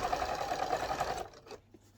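A sewing machine stitches along a cushion's piping in a fast, even whir for just over a second, then stops, leaving faint mechanical clicks close by.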